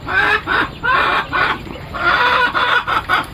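Male quails kept at home call loudly in a run of repeated bursts with short gaps between them. The calls are close and harsh, with no talking over them.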